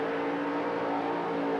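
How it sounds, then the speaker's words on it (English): An IROC Z28 Camaro drag car with a 548 cubic inch aluminum Rodeck racing engine roars through a burnout at a 1980s Australian drag strip, a loud, steady, unbroken engine blare with no voices over it. "Oh, what a burnout by Weddle."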